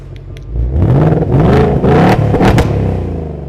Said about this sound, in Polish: funkcję, która umożliwi zdalne przegazowanie samochodu nawet do 5000 obrotów